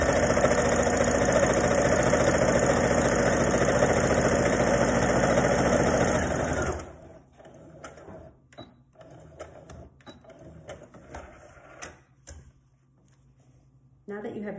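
Sewing machine stitching two pieces of fabric together, a fast steady mechanical whirring chatter lasting several seconds up close, then stopping, followed by quiet handling noises and soft clicks.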